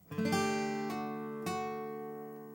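A plucked guitar note rings out, then a soft pull-off sounds a second note, and a pick upstroke re-strikes it, letting it sustain and slowly fade alone.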